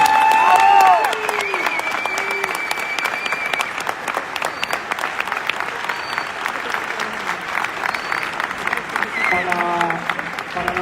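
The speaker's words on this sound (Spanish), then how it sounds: "Un aplauso para despedirlos a los oradores." Audience applause sending off the speakers at a live podcast event, sustained dense clapping throughout with a voice over a loudspeaker near the start and faint voices underneath.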